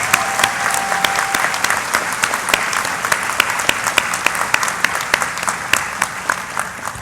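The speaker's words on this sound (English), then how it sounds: "I think they all deserve 2 rounds of applause" Audience applause at a graduation commencement ceremony, honoring summa cum laude graduates: dense, steady clapping from a large crowd that holds at an even level for several seconds without talk.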